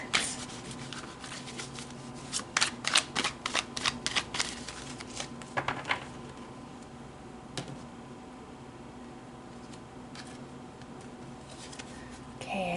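Tarot cards being shuffled, soft rapid riffling and flicks near the start that fade into a quiet room hum with an occasional tap.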